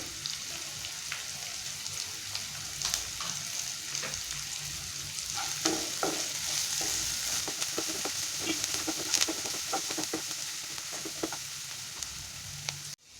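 Onions sauté in oil in a pan for a cauliflower pepper fry, a steady soft sizzle broken by scraping stirs and occasional crackling pops, with a clunk at the very end.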